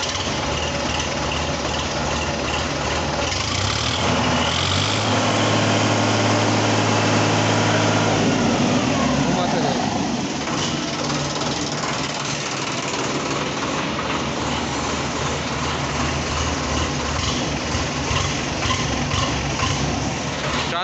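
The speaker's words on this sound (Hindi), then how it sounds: "अब चलिए ज़रा ट्रैक्टर की आवाज़ सुन लेते हैं," Sonalika 740 III 42 hp tractor diesel engine starting and settling into a steady idle, loud and close, with a continuous low throbbing rumble and no talk over it.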